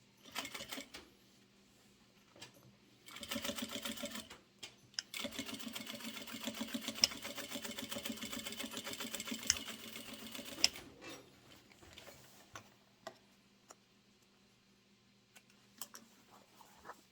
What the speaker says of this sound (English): Now you're just ready to sew it over.